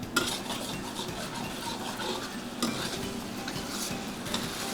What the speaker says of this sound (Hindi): अ क्विक स्टर और हल्का सा slurry for it to coat together.